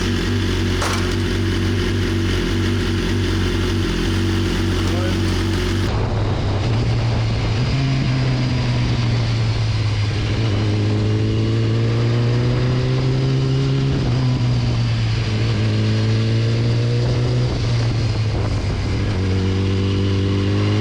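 BMW S1000RR sport bike engine held at steady high revs, then repeatedly revving and dropping in rising sweeps during a quick shifter readapt, loud and close throughout with no talk.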